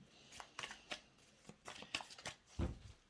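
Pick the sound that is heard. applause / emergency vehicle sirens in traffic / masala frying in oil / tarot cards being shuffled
tarot cards being shuffled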